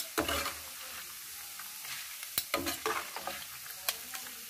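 Roasted gram is scooped out of hot oil while making a homemade spicy mixture snack. Close, quiet sizzling comes with scraping and clicking of a spoon in the pan, and no one speaks.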